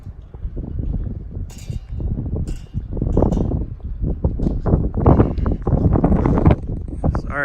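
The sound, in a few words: wind blowing into the microphone outdoors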